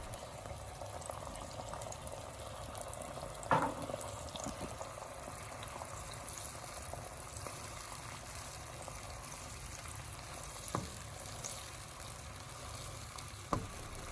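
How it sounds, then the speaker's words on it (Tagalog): Water comes to a boil in a cooking pot for a fish fillet and beancurd dish, a steady bubbling hiss with a few louder pops, heard close and alone. "Hintayin kumulo ang tubig."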